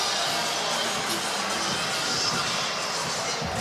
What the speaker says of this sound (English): Coming to the end of round number 1 in front of this raucous crowd here in Quebec.